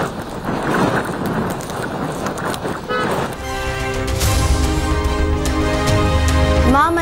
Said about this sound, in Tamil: மாமல்லபுரத்தில் ஆளை தூக்கும் அளவிற்கு வீசிய சூறை காற்று